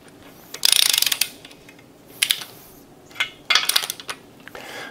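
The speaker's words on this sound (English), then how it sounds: "So I'll torque these down a little bit just to get the main caps seated." Torque wrench ratchet tightening main bearing caps on a 5.9 Magnum engine block for a 1971 Dodge Dart, heard as close, fast ratcheting clicks in three bursts with quiet pauses between them.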